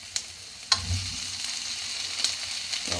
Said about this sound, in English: So what we're going to do now is stick in our potatoes.